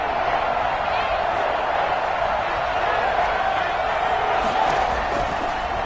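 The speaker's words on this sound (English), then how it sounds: "the crowd getting into it as we come up on a big 3rd down" Dense, steady roar of a football stadium crowd at a Bills–Steelers playoff game, building before a big third down, loud and continuous with scattered shouts throughout.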